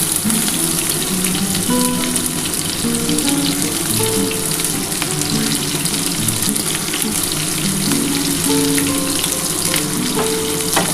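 Loud, steady sizzling of onions frying in a hot pan, with occasional clinks of stirring throughout and no speech.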